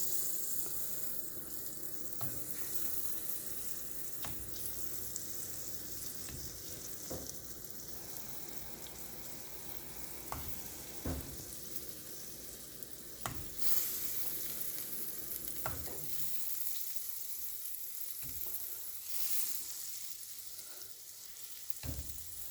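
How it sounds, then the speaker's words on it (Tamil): Halved boiled eggs placed cut side down roast in an oiled pan, giving a continuous soft sizzle with occasional sharper crackles and light utensil taps, fairly quiet and with no talking. "ஸோ இது கொஞ்ச நேரம் ரோஸ்ட் ஆகட்டும் இந்த எக்ஸு."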